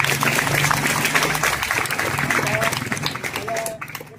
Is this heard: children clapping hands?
yes